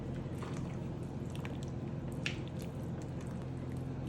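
Thick sour cream from an 8-ounce tub being stirred into meatball stroganoff, giving soft, wet squishing and squelching sounds with small drips, steady and close, no talking.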